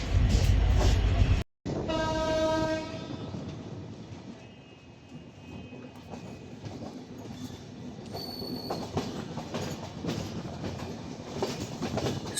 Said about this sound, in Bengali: চিলাহাটি এক্সপ্রেস যথাসময়ে সৈয়দপুর থেকে ছেড়ে দিল ঠিক 7টা 5 মিনিটে